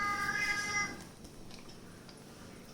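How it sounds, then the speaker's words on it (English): Pet cat meowing in a home kitchen in Kerala, one drawn-out, fairly clear meow at the start that fades into quiet room noise. "See, we have a pet cat over here."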